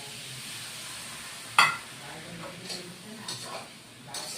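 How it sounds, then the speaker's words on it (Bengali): Small splash of water into a hot pan while cooking aloo potol soyabean curry, giving a sharp sizzle burst that fades into low steady frying hiss with light stirring clinks. "অল্প জল দিয়ে দিচ্ছি"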